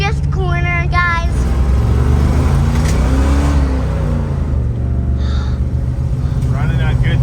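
A 1980 Pontiac LeMans on winter tires rumbles loudly through a drift corner on a washboarded uphill road, its engine droning and rising in pitch close by under bursts of talk inside the car.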